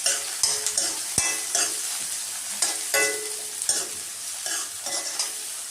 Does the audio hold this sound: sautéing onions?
yes